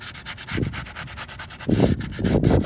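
Close, loud scratchy sanding with 60-grit paper over curb damage on an 18-inch Tesla Model 3 alloy wheel. Rhythmic back-and-forth strokes grow stronger toward the end, with no talking.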